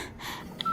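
A mobile phone keypad gives out a short burst of dialing tones, with a brief beep followed by a steady tone, close and fairly quiet.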